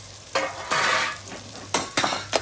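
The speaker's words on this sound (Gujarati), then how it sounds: "અને હવે આપણે નાખી દઈશું મકાઈના દાણા" Corn kernels go into a frying masala and are stirred, giving several loud scraping bursts of a spoon through the mixture over a steady sizzle, with no talk.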